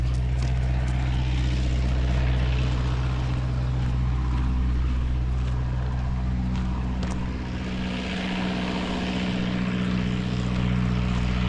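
A low, steady propeller-aircraft drone fills the scene in Alaska's Kenai Fjords area, constant and fairly loud, with faint outdoor noise around it.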